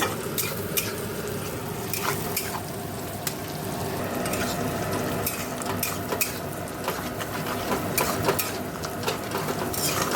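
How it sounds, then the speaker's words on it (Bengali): Onions sizzle steadily in butter in a hot pan, with utensils stirring and scraping against the metal throughout and no voices. "তারপর পেঁয়াজ ভাজছি"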